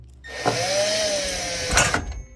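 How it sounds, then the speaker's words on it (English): A power driver backs out Phillips head screws from the door boot of an LG washer, making a close, whirring motor whine that rises slightly in pitch, with a brief burst at each end. "Just take out these 2 Phillips head screws here."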